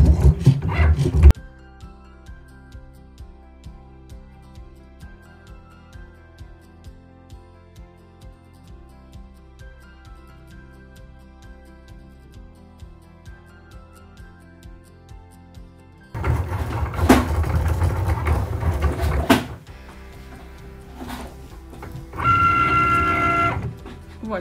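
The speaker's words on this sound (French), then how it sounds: "il a fini de scanner et il va commencer donc la découpe" A Cricut cutting machine cuts out a Stitch design, a quiet, steady mechanical whirr with faint regular ticks under soft background noise, framed by louder bursts of handling noise at the start and near the end.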